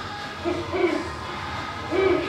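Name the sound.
animatronic owl hooting on Disney World's Tom Sawyer Island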